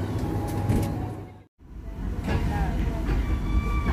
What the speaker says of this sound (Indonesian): kereta api Cikuray berangkat dari stasiun Leles